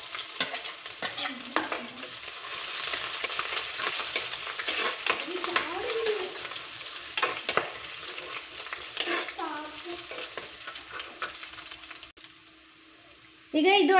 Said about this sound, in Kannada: ಈಗ ಸಾಸಿವೆ ಎಲ್ಲ ಸಿಡಿದಿದೆ ಇದಕ್ಕೆ ಫಸ್ಟ್ ನಾವು ಬೆಳ್ಳುಳ್ಳಿನ ಶುಂಠಿನ ಹಾಕೊಳ್ಳುವ